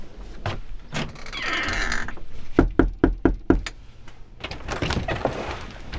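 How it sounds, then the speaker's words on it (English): Knocking on a front door: a quick series of about five sharp, close raps in a row, with muffled movement and background noise before and after. "going out and knocking on a stranger's door"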